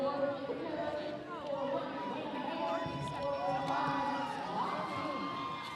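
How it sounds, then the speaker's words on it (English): An indoor roller derby crowd at a day-long tournament fills the venue with a continuous roar of cheering, shouts and chatter, with a person talking closer over the noise. "The cheering section is real in the house, right? It is very loud and very real."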